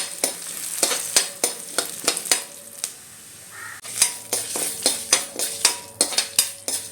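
Lentils roasting in a pan for chammanthi, sharp repeated scrapes and clatters of stirring against the metal over a dry crackling sizzle, close and fairly loud, pausing briefly midway.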